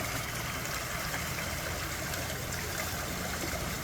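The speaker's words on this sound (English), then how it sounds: "There's something to regulate the flow of the water, and then goes over there." Water runs steadily through a regulated channel in an outdoor waterway, a constant close rushing flow with no breaks or changes in level.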